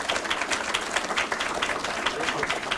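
An audience at a regional off-track betting board's mid-year financial meeting gives a round of applause, steady rhythmic clapping from many hands filling the room, even and sustained throughout.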